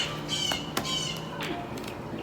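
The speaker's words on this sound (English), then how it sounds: "Nothing makes me feel better than just listening to the birds." Birds call outdoors in short, harsh squawking notes, a few scattered cries at moderate distance over a light background hiss.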